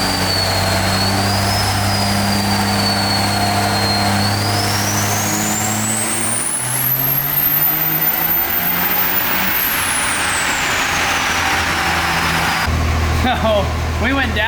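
A car on a dyno, nicknamed Bruce Wayne, revs hard as the engine note climbs steadily to a high, loud peak, then drops back and settles into a lower rumble.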